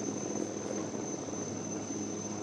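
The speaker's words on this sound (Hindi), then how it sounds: "LCH में रक्षा मंत्री की उड़ान आप देखिए" The HAL Light Combat Helicopter Prachand flies overhead with a steady, droning rotor and engine whine plus a thin high tone, moderately distant and unchanging throughout, with no one speaking.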